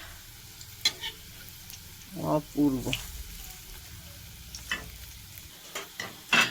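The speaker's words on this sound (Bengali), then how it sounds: "দেখতে পাচ্ছেন এক এক করে আমি এরকম করে ভাজবো। এটা মুড়ির পকোড়া" Puffed rice pakoras fry in hot oil with a soft, steady sizzle, broken by a few stirring clinks and scrapes; a voice speaks briefly over the frying.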